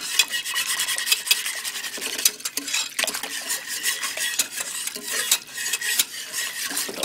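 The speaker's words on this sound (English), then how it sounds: "So we're just going to whisk that in." A whisk stirring flour into pot roast juices in a pot to make gravy, brisk, continuous scraping and rasping strokes against the pot with an uneven rhythm, close and fairly loud, with no talking.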